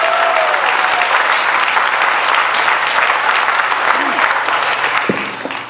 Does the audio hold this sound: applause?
yes